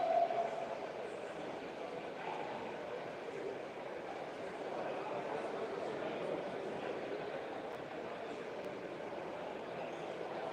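Steady low rumble and whir of an O-gauge model train running continuously on a club layout at a model railway show, even and unbroken, with faint background murmur.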